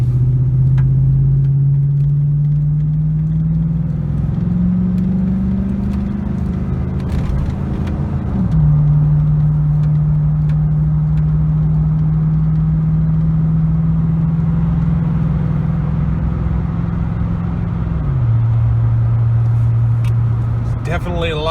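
A 2006 Chevrolet Silverado fitted with a Volant cold air intake accelerates onto a highway, its loud, steady engine drone stepping up in pitch through gear changes over continuous road rumble.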